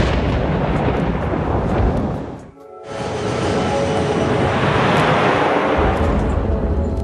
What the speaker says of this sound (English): they head straight into the thunderstorm